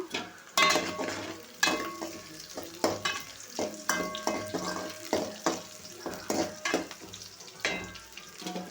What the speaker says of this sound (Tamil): நல்லா ஒரு வெங்காயம் பொன்னிறம் ஆற அளவுக்கு கிண்டி விட்டுக்கிடுவோம்